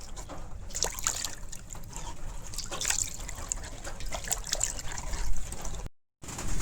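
Bamboo shoots being rinsed in water, with a continuous close trickle, small drips and light splashes and sloshes as the shoots are swished and washed, and no one talking.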